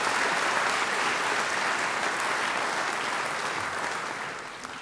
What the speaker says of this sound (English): I think Carl deserves another great round of applause.